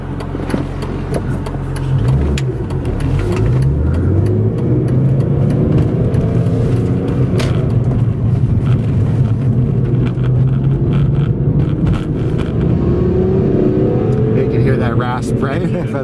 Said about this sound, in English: From the exhaust. I love that sound.